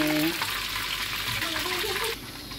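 Crab and onion fry in a hot pan for sweet and sour crab, with a close, continuous sizzle and brief talking near the start.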